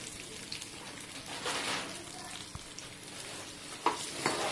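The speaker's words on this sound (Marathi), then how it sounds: "हे वाटाणे घेतले ते आपण थोडेसे आता फ्राय करून घेऊया तेलावर" Green peas fry in oil in a kadhai with turmeric and curry leaves, giving a soft, steady crackle and sizzle marked by occasional stirring scrapes, close and fairly quiet.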